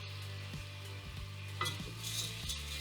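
Stock poured into a hot pot for mushroom barley soup, a close sizzle and hiss with a few stirring scrapes and clinks against the pot, fairly quiet and with no talking.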